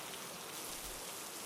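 Steady rain falling in a dense even hiss, faint and continuous with no distinct drops standing out, set as a background for a spooky story.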